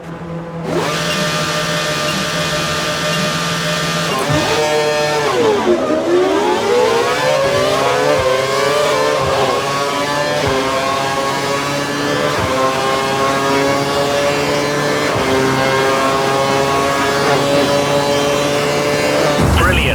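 Formula 1 car engines from the racing game F1 2012 whine at high pitch, rising and falling through gear changes and overtakes, loud and continuous throughout.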